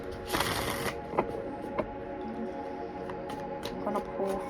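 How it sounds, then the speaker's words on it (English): A deck of cards being shuffled close by, with a quick riffle burst followed by softer repeated flicks and slides. "Give this a good shuffle."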